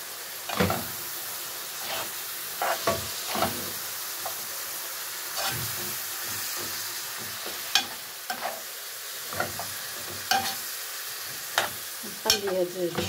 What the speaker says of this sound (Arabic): نقلي هاد الجنجات قليل هنايا